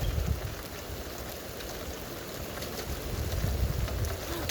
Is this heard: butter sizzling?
no